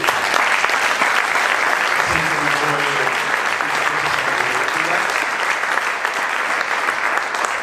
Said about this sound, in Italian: quindi un grande applauso a voi.